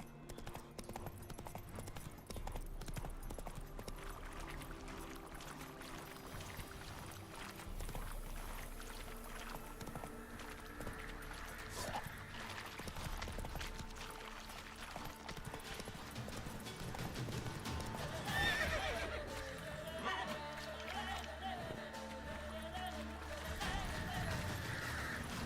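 Roach the horse in The Witcher 3 game, rhythmic hoofbeat clip-clop running steadily through the scene with a brief neigh, all fairly faint under game background sound.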